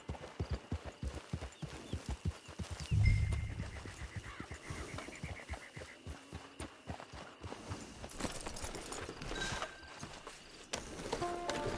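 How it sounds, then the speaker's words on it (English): Horse hooves clip-clop in Red Dead Redemption 2 Online, a steady rhythmic trot at close range with a brief snort, then quieter hoofbeats and faint game sounds. "It's your horse."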